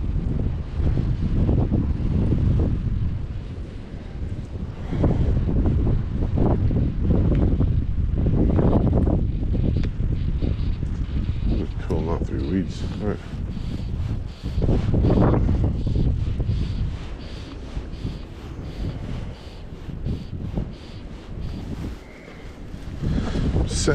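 Strong gusting wind of about 50 mph buffeting the microphone outdoors at a stillwater trout fishery, loud roaring rumble rising and falling throughout with no speech.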